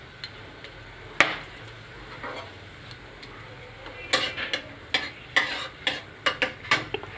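Whole cardamom pods, cinnamon and cloves dropped into hot oil with reddened sugar for Bengali mutton kosha, giving a faint sizzle broken by a run of sharp clicks and scrapes of a stirring spoon, busier toward the end.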